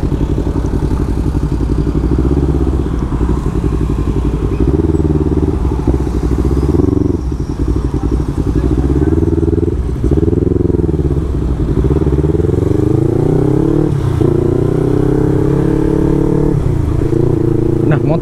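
A Yamaha MT25 motorcycle on a test ride, its engine droning loud and close throughout with repeated shifts in revs as it accelerates and eases off.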